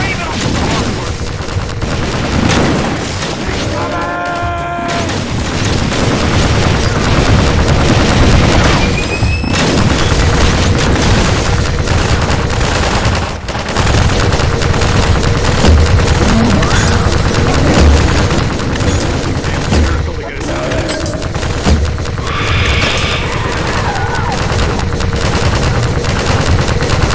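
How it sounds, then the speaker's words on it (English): Half-Life 2 Episode Two battle against a Strider at a sawmill: loud, continuous gunfire and fusillades with heavy booms and explosions, dense throughout, with occasional voices under the din. "Get the cover and start shooting."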